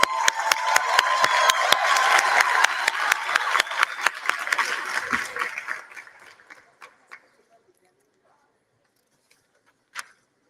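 Audience applause at a 2023 Matric examination results announcement, dense clapping for about six seconds that thins out and fades to quiet, with one last clap near the end.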